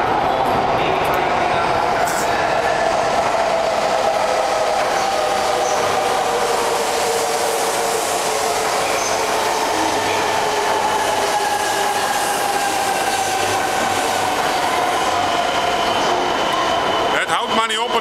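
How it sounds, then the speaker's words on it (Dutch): A 400-metre train rolls steadily into a station, wheels grinding and squealing on the rails for an extended stretch, loud and close. "Onze trein komt er intussen ook aan."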